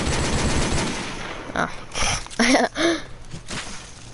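Gunshots fired at a watermelon ring out as a string of loud, sharp bursts over a steady noisy background, with a few closely spaced reports near the middle.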